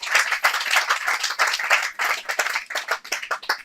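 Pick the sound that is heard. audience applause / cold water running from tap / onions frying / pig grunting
audience applause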